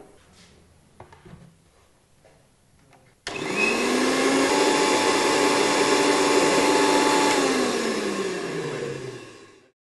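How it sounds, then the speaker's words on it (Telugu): A mixie grinding coriander seeds and three garlic cloves in its jar: after faint handling knocks, a loud steady motor whir starts abruptly, runs for several seconds with a rising pitch, then winds down. "వీటిని మిక్సీ చేసుకోవాలి"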